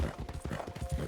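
A horse gallops in the video game Red Dead Online, a quick, rhythmic run of soft hoof thuds that comes across fairly faint and lasts only about a second.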